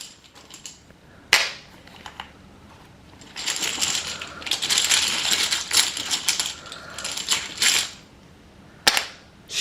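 Game tiles rattle and clatter inside a bag as a hand rummages and draws them out, giving sharp clicks, a longer stretch of dense shuffling in the middle and a few separate taps near the end.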